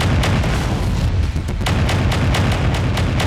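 Mech weapons fire in MechWarrior 5 Mercenaries as a steady rapid string of booming shots over heavy rumbling, loud and continuous with no talk.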